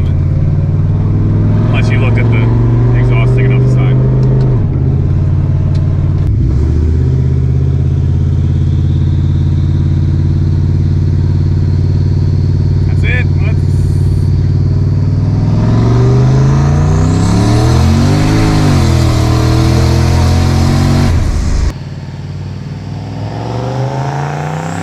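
A 600-horsepower turbocharged V8 Lincoln accelerating hard, its loud engine note rising and falling through gear changes over about twenty seconds, heard close from inside or near the car, with people talking over it.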